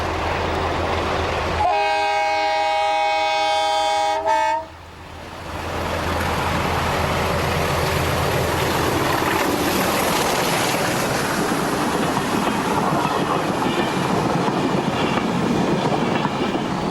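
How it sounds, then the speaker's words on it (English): A Portuguese CP class 1800 diesel locomotive departs Pinhal Novo, sounding a loud sustained two-tone horn for a few seconds, then a heavy continuous engine roar and rumbling wheel noise close by as it pulls away. "as this 1800 departs Pinal Novo"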